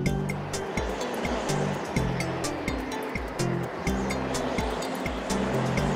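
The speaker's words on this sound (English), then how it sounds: "Oh, there's sea below already." Sea waves below in a cartoon, a continuous loud surf wash of rushing water with a steady churning roar, mixed with a pulsing low mechanical hum and scattered clicks, no speech.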